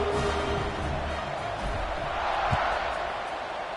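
A stadium crowd in the NCAA 26 college football video game roars steadily before a kickoff, a dense continuous wash of cheering under faint commentary.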